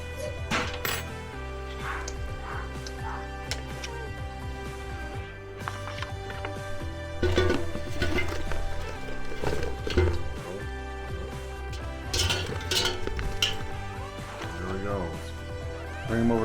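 Air-fried French fries are scooped and dumped from the hot basket, giving light scattered clinks and rattling scrapes under steady talking, fairly quiet with a few brighter knocks.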